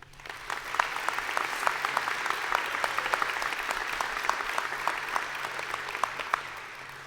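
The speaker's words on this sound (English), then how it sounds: "Please join me in giving a warm round of applause for William Mean" An audience at a SUNY Canton honors convocation claps warmly for William Mean, steady dense applause that swells in and holds at moderate loudness before starting to taper.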